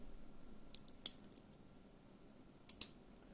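The box of a Xiaomi TV Box S streaming device is opened, producing a few faint cardboard clicks and crisp snaps against a quiet room.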